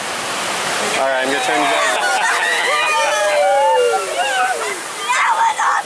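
Continuous rushing water and heavy splashing roar around a raft on the Kali River Rapids ride at Disney's Animal Kingdom as it goes over the drop, while riders talk and shout over the loud spray.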